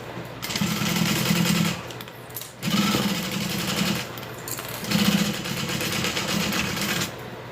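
A sewing machine stitches a fabric panel in three long loud runs, with brief pauses between them, close by and mechanical.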